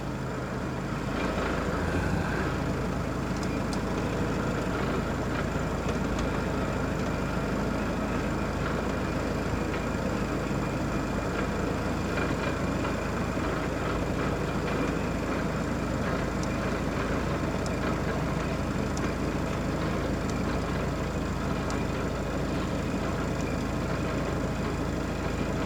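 A Kubota L4060 tractor engine idles steadily, giving a continuous low rumble that stays even and constant throughout with no talking.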